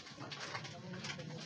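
Cooing of a racing pigeon arriving at its home loft during a race's first-lap arrivals, soft and steady for under two seconds with faint voices talking underneath.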